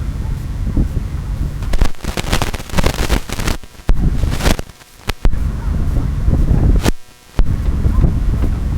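Gusting wind buffets the microphone in loud, broadband rushes that swell and drop during a women's rowing race, with brief lulls between blasts and voices partly under the roar.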